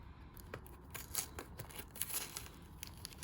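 A parcel holding Pokémon cards is opened with quiet, close snips and tearing, giving a scatter of short crisp cuts and crinkles at low volume.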